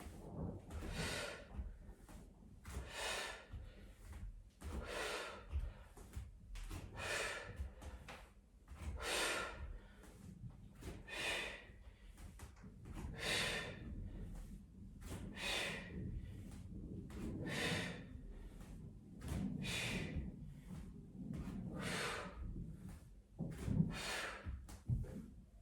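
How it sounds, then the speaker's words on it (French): Heavy, rhythmic panting during a post-lockdown strengthening workout, with regular loud breaths in and out close to the microphone, repeating steadily throughout. "Vous l'entendez, on est un peu essoufflé."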